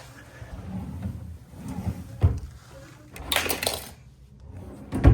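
Hotel room drawers at a La Quinta Inn & Suites in downtown Chattanooga slide open and shut, giving several wooden scrapes and thumps with a sharp bump near the end. Someone talks quietly in between.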